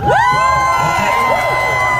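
A protest crowd cheering and whooping loudly up close, overlapping shouts and rising cries forming a dense, sustained roar with talk mixed in.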